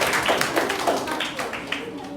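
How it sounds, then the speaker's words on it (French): Children clap in a quick series of sharp claps during a classroom praise routine at a French-language school, with a teacher's voice talking over them. "On l'applaudit."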